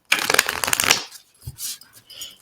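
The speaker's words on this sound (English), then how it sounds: "let me just shuffle to see how Willow and Jaden Smith are" A deck of tarot cards shuffled for a reading, a dense papery riffle for about a second followed by a few softer card taps and shuffles.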